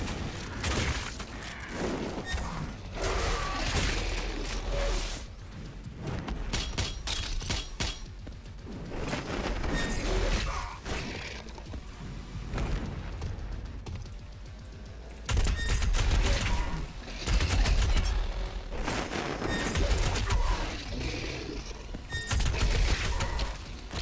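Gunfire in Doom Eternal during the Gladiator boss fight is a loud, dense and continuous barrage of shots, booms and clanking effects that fills the whole clip with almost no pause.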